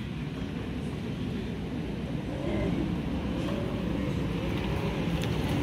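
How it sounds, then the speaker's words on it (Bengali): A sudden heavy rain falls with gusty wind, giving a dense, steady roar of rain and wind all the way through with no break. "বৃষ্টিটা হট করে নামলো, কিন্তু বেশ জোরেই নেমেছে"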